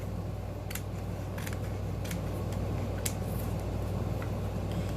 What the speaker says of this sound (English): I'm just simply going to cut this out with my scissors as nice and neat as I can